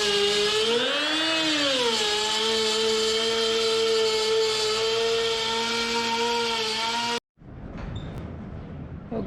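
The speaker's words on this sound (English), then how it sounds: "I'm just going to clamp this on and then go right around and router it so it's the same" A router cuts plywood around a clamped template for a teardrop camper shape, giving a loud steady high-pitched whine that dips and rises in pitch, then stops abruptly near the end as the motor shuts off.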